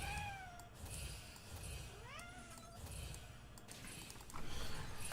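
A house cat meows for attention, two or three rising, drawn-out cries close by over low room noise and faint game sounds.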